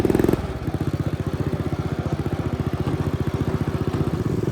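A John Deere lawn tractor engine runs with the choke on, a close, rapid, evenly pulsing putter that settles into a steady rhythmic chug after a brief louder start.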